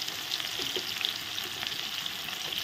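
A flour-coated two-kilogram head of a boal catfish fries in oil in a pan, giving a steady, soft, even sizzle with no talk.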